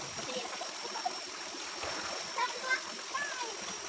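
Children bathe in a stream, their faint, irregular splashes and a few small bursts rising over a soft, constant rush of flowing water, with light chatter in the background.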